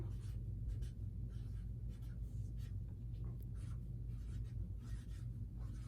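Pencil writing on paper while a math word problem is worked out: close, soft scratchy strokes in short, irregular bursts against a quiet, steady room hum, with no talk.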